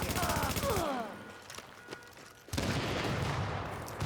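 Video game gunfire rattles in fast, dense bursts, stops for a quieter stretch with a few isolated shots, then resumes in a loud sustained volley while radio-style voices call out.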